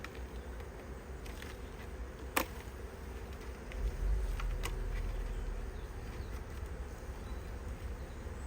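A colony of F1 Buckfast honeybees hums faintly around an opened hive during a virgin queen introduction. The soft, steady drone is broken by a couple of sharp clicks, and there is no talking.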